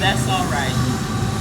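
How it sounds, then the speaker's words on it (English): A passing train produces a steady, loud low rumble with faint tonal whining above it, continuing without a break while a person talks over it. "I'm sorry about the train."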